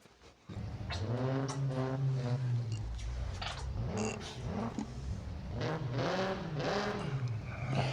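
Race cars rev at the launch of a race in the mobile game NFS No Limits, with several engines climbing and falling in rising pitch sweeps, loud and close, accompanied by occasional clatter.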